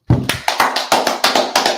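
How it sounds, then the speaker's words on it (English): A run of sharp hand claps at a church Sabbath service, about nine in quick, steady rhythm, close and fairly loud with no talking. "Clap it up for her."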